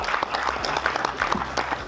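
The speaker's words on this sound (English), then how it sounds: "give him another round of applause" Audience clapping for the section winner at a live match fishing final prize presentation, a short dense burst of applause from a crowd.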